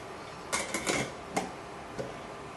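A metal weight being set onto a pressure cooker lid while tomato soup is prepared: a quick cluster of close metallic clicks and clanks, then a softer single tap a moment later, with no voices.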